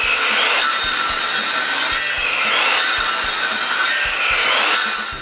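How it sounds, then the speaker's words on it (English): Handsaw cutting tenons into the bottom of wooden sawhorse leg posts, a loud close rasping stroke pattern with long back-and-forth pushes about every second, continuous throughout with no talk. "I start by cutting the tenons on the bottom of the leg posts"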